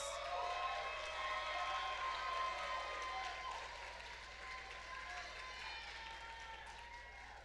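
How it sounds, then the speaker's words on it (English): Applause from a room of students honouring their advisors at a Black college queens competition, a steady wash of clapping that is loud at first and eases slightly, with voices faintly mixed in. "all of our students, I know they want to give you a big round of applause"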